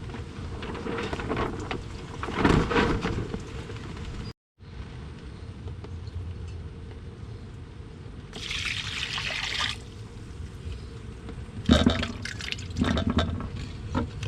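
Water trickles and splashes continuously as beef skin is washed, with a few louder bursts of pouring near the middle and end, no talking.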